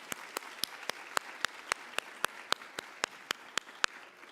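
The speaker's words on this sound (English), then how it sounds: "So please give yourselves a round of applause for being here this Friday morning." Audience at a medical symposium clapping, a steady run of about sixteen evenly spaced, crisp claps that sound like only a few people in a quiet room.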